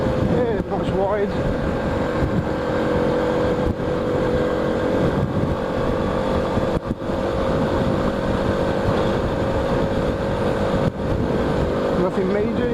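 A motorbike engine drones steadily during a ride up a valley, with continuous wind buffeting on the microphone; the rumble stays loud and even throughout, and a rider talks over it.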